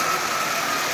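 A Marx prewar toy train motor fitted in a 999 locomotive shell runs forward at partial power pulling twelve Lionel cars, giving a steady, close mechanical whir and hum with no pauses or talk.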